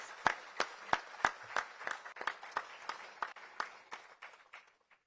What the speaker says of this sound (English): I need a big round of applause for these two ministers